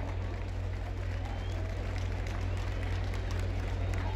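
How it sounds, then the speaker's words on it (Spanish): Crowd applause at a jaripeo rodeo event in Copándaro, Michoacán, where the Rancho Los Destructores rider is introduced; a steady, dense wash of clapping and crowd noise over a low constant rumble, with voices mixed in. "fuerte el aplauso"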